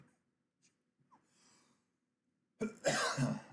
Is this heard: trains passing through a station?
no